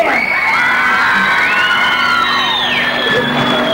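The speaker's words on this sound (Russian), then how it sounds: "Ваши аплодисменты" A dance contest crowd cheers loudly, with shouts, whoops and high children's voices in one sustained, dense roar.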